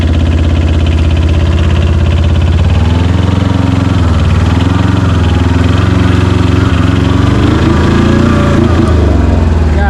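An Arctic Cat ATV fitted with Knight Sure 4 track kits churns through rough terrain, its engine loud and close, rumbling steadily and rising as it strains through the climb.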